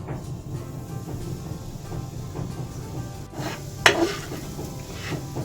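Semolina frying in melted ghee over a low flame, a soft sizzle under gentle scraping and stirring strokes, with one sharp clink of a spoon against the pan partway through.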